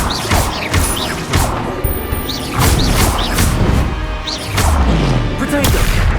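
Rapid spell-combat effects from Hogwarts Legacy: a dense run of whooshing casts, crackling bursts and crashing impacts layered over one another, loud and continuous with a few sweeping swells.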